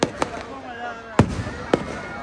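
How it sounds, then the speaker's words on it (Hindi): Fireworks bursting at a Ravan Dahan Vijayadashami celebration in Nainital, four sharp bangs spread irregularly with crackling decay between them, loud and nearby over a low crowd murmur. "सुंदर और आकर्षक आतिशबाजी"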